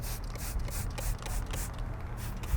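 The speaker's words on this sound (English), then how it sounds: "We're just going to spray directly onto the surface and also onto our brush" Leather cleaner sprayed from a trigger bottle onto natural leather and a horsehair brush, a series of short close hissing spritzes with faint clicking of the trigger, no talking.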